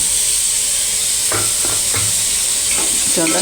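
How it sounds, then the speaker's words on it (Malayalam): Green chilies and tomatoes sizzle in a hot pan while a spoon stirs them in a few quick scraping strokes, with a steady frying hiss underneath throughout. "നന്നായിട്ട് ഇളക്കാം"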